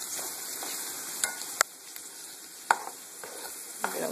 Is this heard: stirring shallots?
yes